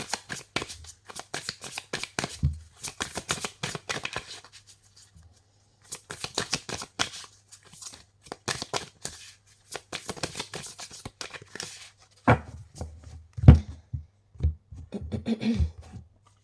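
Oracle cards depicting African goddesses shuffled by hand in bursts of crisp riffling and sliding, pausing briefly between rounds, close and clear with a low steady hum underneath.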